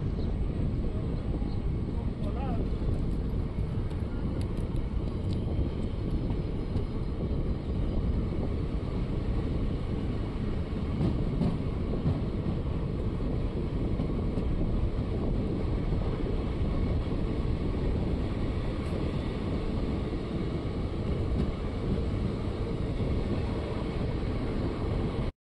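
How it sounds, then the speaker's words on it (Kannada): A passenger train pulls out of Almatti station near the dam, with a steady low rumble and rattle of the moving carriages and wind buffeting, continuous and moderately loud from inside the coach. "ಹೊರಟಿದೆ ನಮ್ಮ ಟ್ರೈನ್ ಆಲ್ಮಟ್ಟಿಯಿಂದ"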